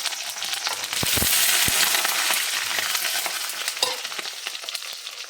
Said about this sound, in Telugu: దొండకాయలు నూనెలో వేసి కొద్దిసేపు డీప్ ఫ్రై చేసుకుందాం